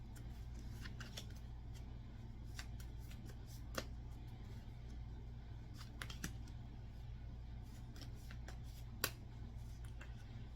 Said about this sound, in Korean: 이 사람의 행동에 대해서 추가 카드를 뽑아보도록 하겠습니다.